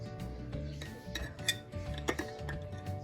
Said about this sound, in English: And then I'm gonna give it a stir.